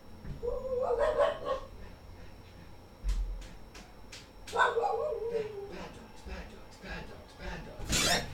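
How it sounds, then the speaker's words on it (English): Several dogs bark in short, repeated bursts at moderate distance, with sharp yips spread over a few seconds while a person talks over them in a room. "don't listen to my dog barking"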